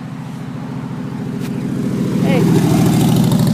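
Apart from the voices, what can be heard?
motorcycle passing by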